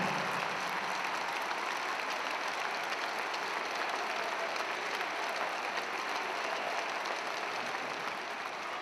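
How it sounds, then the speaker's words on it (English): Sustained crowd applause fills an ice hockey arena during a Belfast Giants versus Coventry Blaze game, a broad, even wash of many hands clapping, loud and unbroken for several seconds. "Now let's hear that applause"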